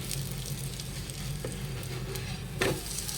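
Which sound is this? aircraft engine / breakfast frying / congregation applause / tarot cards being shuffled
breakfast frying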